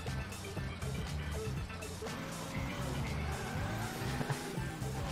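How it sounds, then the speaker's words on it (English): A delivery van rolling and crashing about in the physics game Turbo Dismount, its engine droning steadily with clattering impacts and thuds layered throughout, loud and continuous with no talk. "The delivery van."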